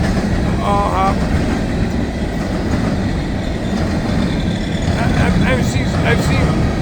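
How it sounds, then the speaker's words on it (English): A freight unit train made up entirely of hopper cars rolls past close by, a steady loud rumble of wheels on rail running throughout, with a few brief squeals and people talking over it. "So now this is all hoppers, another unit train."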